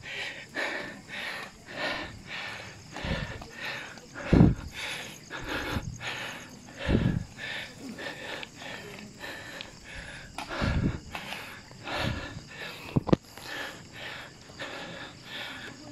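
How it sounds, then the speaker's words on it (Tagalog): Heavy rhythmic panting and snorting follows a ride, with repeated harsh breaths and occasional louder snorts carrying on steadily for several seconds. "hingal kabayo."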